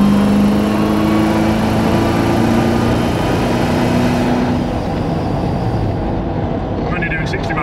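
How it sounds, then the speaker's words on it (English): A Land Rover Defender fitted with a boosted V8 engine cruises at about 60 mph, a loud, steady engine drone heard from inside the car, with a voice talking over it. "and just listen to this car."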